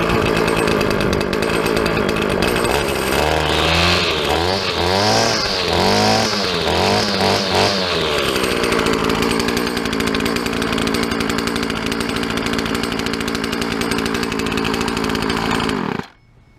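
A string trimmer with a 31cc IDC engine running with a raspy, buzzing two-stroke tone, revving up and down several times in quick blips before settling to a steady idle, then cutting off abruptly at the end.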